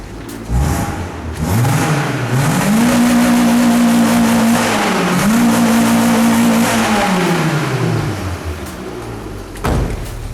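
A 2001 MG F engine is running close by and revved hard several times, the pitch climbing and holding, dropping briefly, then rising again before falling back to idle.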